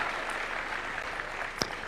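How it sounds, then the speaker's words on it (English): Conference audience at a national dialogue in a Nairobi convention hall applauding as a panelist walks up, a soft, steady patter of clapping with one brief sharp clap standing out near the end. "Let's give him a round of applause as he makes his way up."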